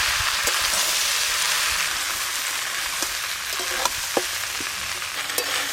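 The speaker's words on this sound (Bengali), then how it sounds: "মশলার সঙ্গে সব কিছু একসঙ্গে খুব ভালো করে মিশিয়ে নেব।" Catla fish head and fried vegetables stirred with spices in a hot pan for a Bengali greens dish, a steady close frying hiss broken by occasional scraping stirs and sharp crackles, with no voices.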